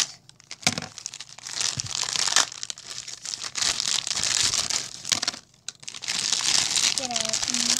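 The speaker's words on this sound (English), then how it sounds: "I thought I could rip that open," Plastic toy packaging for retired Schleich figures being crinkled and torn open by hand, loud close crackling and ripping in bursts, with a voice speaking briefly near the end.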